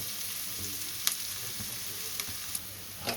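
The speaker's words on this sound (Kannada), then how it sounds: "ಈರುಳ್ಳಿ ಚೆನ್ನಾಗಿ ಫ್ರೈ ಆಯಿತು" Onions frying steadily in a pan for a pumpkin palya, a continuous close sizzle with a few brief sharp clicks of stirring.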